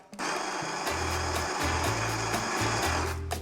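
The built-in grinder of a Breville Barista Max VCF126X espresso machine grinds coffee beans with a loud, steady motor whine and a low rumbling hum that pulses in short segments, heard alone and close.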